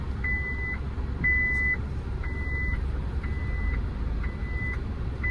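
Garbage truck backing down a tight residential driveway, its reversing alarm sounding about six evenly spaced, moderately loud beeps over a steady low engine rumble.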